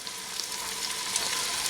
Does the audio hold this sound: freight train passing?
no